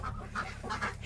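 Birds, ducks and chickens in a coop, soft clucking and quacking calls in a short, close burst with nobody speaking.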